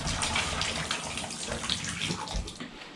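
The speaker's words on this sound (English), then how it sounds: "as you can see, this water continues to run" Water runs steadily from a broken bathtub spout that will not shut off, a continuous close hissing splash with no pauses.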